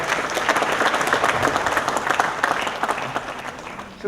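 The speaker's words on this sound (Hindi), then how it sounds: "एक बार तालियां जोरदार जरा।" Loud, steady applause from an audience at an awards ceremony, dense clapping filling the room throughout with faint crowd murmur underneath.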